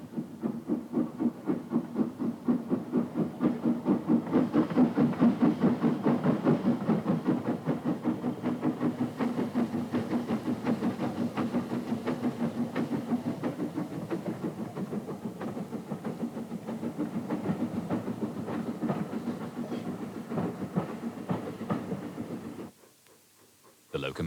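Number 63, a 1954 ex-Corby Steelworks locomotive on the heritage line at Haworth, runs with a steady rhythmic chuffing and rail clatter, fairly close and sustained, before cutting off abruptly near the end.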